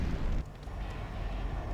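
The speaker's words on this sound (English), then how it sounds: "What a monstrous explosion." A fuel-air bomb detonating in a competitive video game match lets out a loud, sustained low roar and rumble that rolls on without a break.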